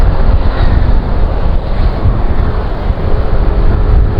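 Constant wind buffets the microphone on Roxas Boulevard, Manila, with a heavy low rumble and gusty roar, loud and close throughout, no voices.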